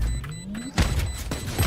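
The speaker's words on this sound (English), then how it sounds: "Launching missile." A missile launch in Valorant: a rising whooshing tone climbs, then gives way to a run of heavy booming thuds as the explosion hits, loud and close.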